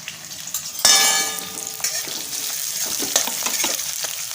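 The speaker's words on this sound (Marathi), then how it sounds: "कांदा भाजून घ्यायचा." Long-sliced onion, one large onion, hits a hot pan with a loud sudden sizzle and a metallic clang. Steady frying hiss and scraping stirs follow, close and prominent.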